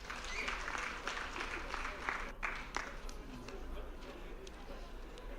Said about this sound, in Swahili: Naomba mkaribishe kwa makofi.